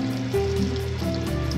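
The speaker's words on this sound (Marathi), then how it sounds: "त्याला तडतडू द्यायचं आहे" Cumin and mustard seeds crackle in hot butter with a little oil, a soft, quick patter of small pops over a steady low sizzle, close and fairly quiet.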